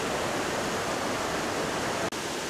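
The Jogini waterfall near Manali roars close by as a dense, steady rush of falling water with one brief dropout near the end.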